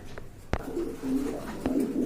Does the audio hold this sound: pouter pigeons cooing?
yes